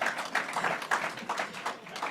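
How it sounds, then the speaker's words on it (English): Scattered applause from an audience at a governor's public event in Amherst, a steady patter of many hands clapping at moderate distance, fairly dense and even for a couple of seconds with no one speaking. "yeah, you can clap on that."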